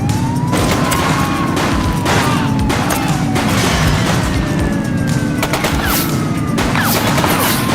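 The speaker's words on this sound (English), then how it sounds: "Shots fired!" Dense, rapid gunfire in the police video game The Precinct, a loud continuous fusillade of shots with booms, and a siren wailing underneath throughout.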